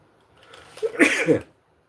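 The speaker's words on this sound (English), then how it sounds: "Sneezes hurt my sternum." A single sneeze, loud and close, with a short sharp burst and a brief follow-through, alone with no talk around it.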